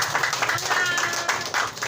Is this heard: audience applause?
yes